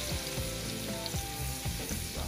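Crushed garlic and salted butter sizzling in a pan for a seafood boil: a steady, close, crackling sizzle that runs unbroken throughout.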